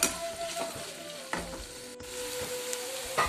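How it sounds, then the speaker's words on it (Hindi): Onions frying in oil in a pan for dum aloo, a steady crackling sizzle with a few sharper stirring scrapes, close and alone without talk. "प्याज डाल दिया है, और हम प्याज को गोल्डन ब्राउन होने तक अच्छी तरह से, ज़्यादा नहीं करने, थोड़े से करने, गोल्डन ब्राउन तक भुनेंगे"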